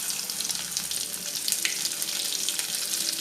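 Garlic sizzles in hot oil after mustard seeds have popped, a dense steady hiss of frying for a tempering, close and fairly loud with no voices.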